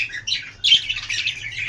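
Pet lovebirds in a breeding nest let out shrill, harsh squawks in a near-continuous burst, loud and close, with a sharp peak partway through and no voices.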